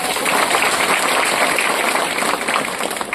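Steady, dense clapping from a sizable crowd at a Kopargaon ceremony honoring anganwadi workers, loud and continuous for a few seconds without any talking.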